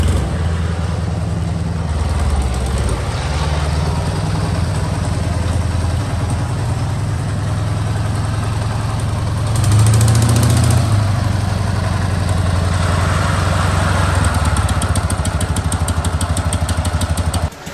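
A restored 1957 KMZ M-72N motorcycle engine runs steadily at idle throughout, a loud, close, continuous rumble that briefly revs up around the middle before settling back.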